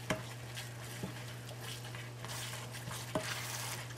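Cheese being stirred as it melts in a pot on a stovetop burner for a beef enchilada bake, a soft continuous sizzle with a steady hum beneath and a few sharp spoon-against-pot knocks spaced through it.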